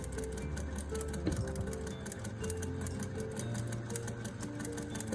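A sewing machine stitches the edge of a scarf fabric flower corsage steadily, with rapid, even mechanical ticking and a low motor whir, close and continuous.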